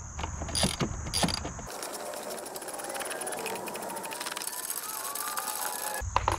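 A 3/8 ratchet socket wrench works a bolt loose from the housing of a Toro Timemaster 30 mower, giving a steady close mechanical clicking and whirring with sharper ratchet bursts at the start and end, and no talk.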